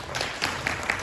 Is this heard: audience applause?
yes